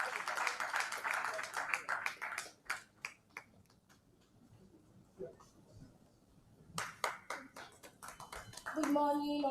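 Indoor audience applause at a stakeholder roundtable on education in Nigeria; dense clapping fades into scattered claps, dies down, then rises again as the hall welcomes a speaker, with a voice coming in at the end.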